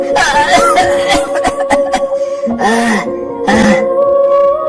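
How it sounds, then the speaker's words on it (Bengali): A Bengali cartoon character coughs, voiced by an actor, in loud, raspy, groaning fits that come in several close bursts. "তুই আমার কাশছিস কেন রে"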